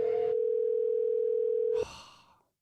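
A continuous steady telephone tone drones for nearly two seconds while an unanswered call goes out, then cuts off into a brief burst of noise that fades away.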